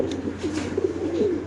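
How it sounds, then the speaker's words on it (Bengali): A Lahori pigeon at a pigeon farm coos in low, repeated throaty calls, close and fairly steady across the short moment with no talk over it. "খুব সুন্দর একটা লাহোরি কবুতর।"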